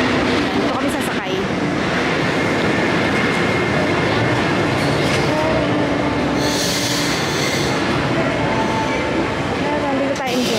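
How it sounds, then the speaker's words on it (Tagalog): An old passenger train rolls into a station on the far track, with loud continuous rumbling wheels, rail squeal and clatter, close and sustained, while people talk over it. "ayan yung train na galing sa kabilang side. Mga luma yan eh."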